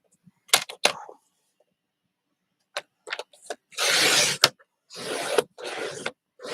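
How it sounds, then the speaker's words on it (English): Card stock being trimmed to size with a paper trimmer, a series of short scraping cuts followed by longer, louder sliding rasps of the blade, alone in a quiet room. "So we're going to trim it down."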